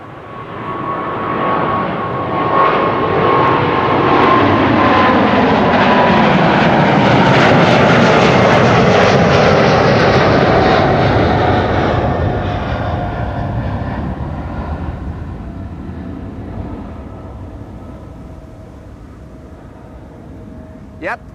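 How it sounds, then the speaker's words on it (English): A KLM Boeing 777-200 jet taking off from Amsterdam Schiphol for San Jose builds into a loud, close roar with a falling whine, peaks mid-way, then gradually fades into the distance. "KLM flight 759 to San Jose. A 777-200 over here taking off."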